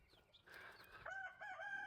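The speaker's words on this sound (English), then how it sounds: "Let's see if I can get these chickens to go back in." Chickens give a short, quiet burst of clucking and squawking in a backyard coop, brief and fairly faint.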